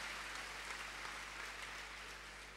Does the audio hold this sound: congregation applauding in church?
yes